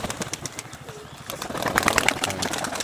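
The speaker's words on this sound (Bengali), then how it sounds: "এই হচ্ছে এক জোড়া কবুতর দেখালাম আপনাদেরকে" A pair of high-flyer pigeons kept by a fancier coo softly and low, with a little wing rustling amid steady background noise.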